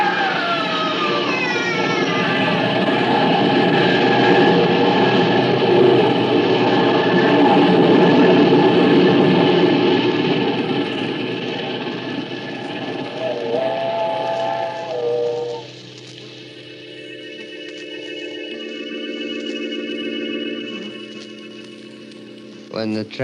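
A radio-drama effect of a steam train passing: a loud sustained steam whistle and hissing rumble swell, then fade as the train moves off, leaving fainter tones.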